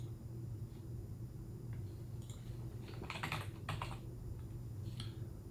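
Quiet clicks of typing on a computer keyboard while searching a records database, a short irregular burst of keystrokes over a steady low hum.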